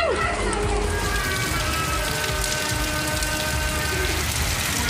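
Heavy rain pours down during a thunderstorm in Ooty in the Nilgiris, a dense, steady roar of drops that stays loud and unbroken throughout, with no clear thunderclap standing out.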